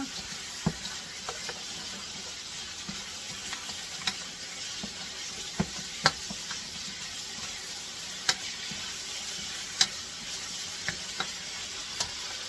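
Pork belly for lechon kawali frying in a pan with black pepper, a steady dense sizzle of hot oil throughout with sharp scattered pops and spatters, fairly close and unbroken by talk.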